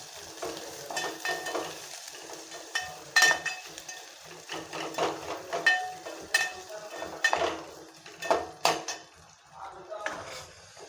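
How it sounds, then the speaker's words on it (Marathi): Garlic roasting in a small amount of oil over low gas, with steady frying sizzle and repeated stirring scrapes and clinks of a utensil against the pan, close up; a few brief voice sounds come through. "लसण छान प्रकारे असा खरपूस होईपर्यंत भाजू देणार आहोत आपण"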